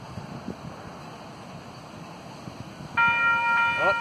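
At the MBTA railroad level crossing on Main Street in Ashland, Massachusetts, the crossing bell starts partway through and rings steadily and loudly over faint outdoor background noise.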